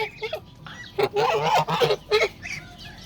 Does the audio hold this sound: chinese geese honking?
yes